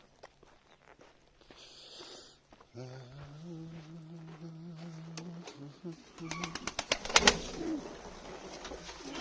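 Pigeons cooing nearby in a pigeon coop, a steady low warble, joined by a burst of fluttering wings and shuffling toward the end.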